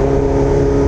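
A Honda Hornet motorcycle accelerating, a loud close steady engine tone holding high revs, alone without talk.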